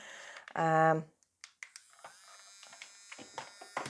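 An electric nail drill gives a brief high-pitched whirring buzz for under a second, followed by faint clicks and rustles in a quiet room.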